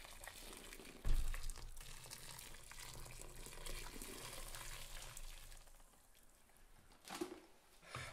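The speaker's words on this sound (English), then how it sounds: "Boiling water to melt the sugar." Boiling water is poured from a kettle onto a full bag of sugar for damson wine, a sudden splashing gush followed by a steady close hiss and trickle of liquid, with a second splash near the end.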